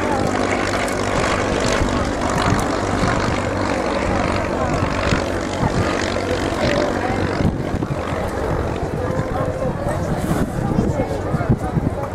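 An Avro 652A propeller aircraft flies at the RAF Cosford air show, its engines giving a loud, steady, broad drone that holds for the whole stretch, with a commentator's voice under it.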